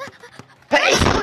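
After a few soft, brief sounds, a single loud sneeze bursts out close by.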